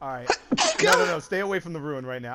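A sharp sneeze bursts out amid lively, close conversation during a Dead by Daylight gaming session, with voices talking before and after it.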